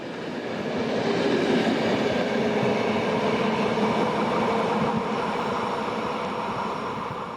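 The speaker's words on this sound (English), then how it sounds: "fast expresses are in the hands of Class 46 Coco electrics, such as the one seen here" A Class 46 Co-Co electric locomotive hauls a fast express train past, a steady loud rumble of wheels and traction noise that swells in and holds for several seconds, then eases slightly toward the end.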